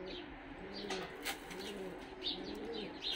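Pigeons in a dovecote coo softly and repeatedly at close range, with a few faint chirps and a brief wing flutter amid a low background hum.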